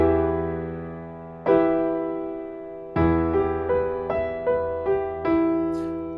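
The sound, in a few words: piano arpeggio with E root note and lower octave in left hand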